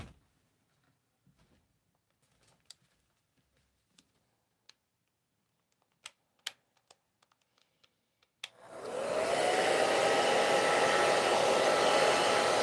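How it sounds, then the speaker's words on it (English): A hair dryer rapid-dries a freshly painted art surface before the next layer goes on. Faint scattered ticks and taps come first, then the dryer switches on loud and close with a steady roaring whine. "Go plug the hairdryer in."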